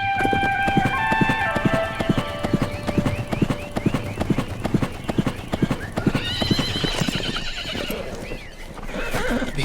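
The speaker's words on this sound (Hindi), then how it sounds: "भीमा, घोड़ा बांध दे।" Horse hooves clip-clopping in a steady, loud rhythm close by, with drawn-out neighs and whinnies rising over the beats, and voices faintly underneath.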